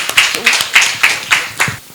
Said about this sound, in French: Est-ce qu'on peut le raccompagner sous des applaudissements?